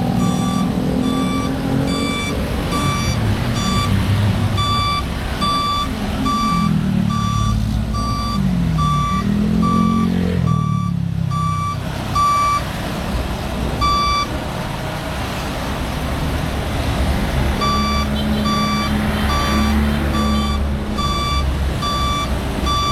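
Heavy equipment backs up at a roadwork site where sheet piles are being installed beside a fast-flowing river, its reversing alarm beeping in a steady loud rhythm over a continuous engine rumble, with no talking.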